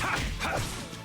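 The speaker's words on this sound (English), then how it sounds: "What are these dog noises, man?" Dog barking sound effects in the Tales of Vesperia video game, a loud, short burst of yapping barks layered with whooshing combat effects, heard alone without talk.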